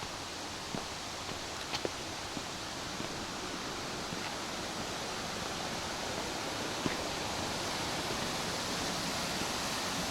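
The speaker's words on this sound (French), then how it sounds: "Là, ça doit être la fameuse cascade qu'on entend." A waterfall near Cilaos on La Réunion produces a constant, even rushing roar that fills the scene at a moderate distance, with a few faint footsteps or knocks scattered through it.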